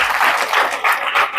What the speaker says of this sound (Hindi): एक बार तालियां बजा सकते हैं।